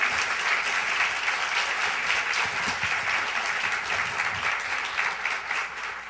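Steady, dense applause from an audience welcoming two panelists at a women artists symposium, filling the whole stretch at an even level with no break.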